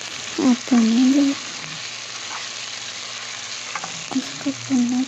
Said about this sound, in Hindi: 2 चम्मच लहसुन अदरक का पेस्ट। थोड़ा सा उसको हम भूनेंगे।